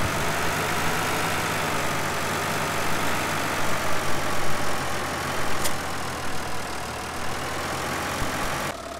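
A tractor engine idles steadily in Farming Simulator 2013, a constant low mechanical drone holding level throughout with no talk over it.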